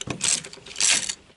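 A 17 mm wrench ratchets a front seat belt bolt on a Citroën Traction 11B in two quick bursts of close, dry clicking.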